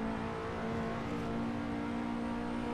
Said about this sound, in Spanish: aquí ponemos a tope de nuevo el coche